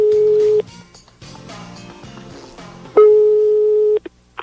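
A telephone busy tone sounds after a dropped call, with one steady beep followed by a second longer one, loud and close, separated by a stretch of faint background noise.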